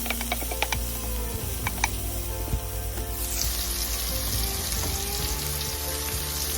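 Bacon fries in a pot with crackling spices, a continuous sizzle with scattered pops and crackles throughout, growing brighter and hissier in the second half.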